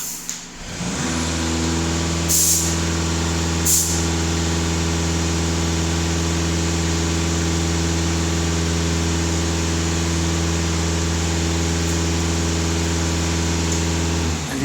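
A Volkswagen Passat B8 diesel engine runs at raised revs with a steady, strongly tonal drone that holds constant after a short rise at the start, close and loud, with no speech.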